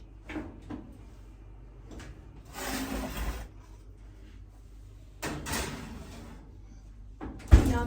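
A kitchen oven door swings and clunks shut as a muffin tray goes in for vegan banana muffins, with a few light clatters, two longer rushing whooshes and a final sharp thud near the end.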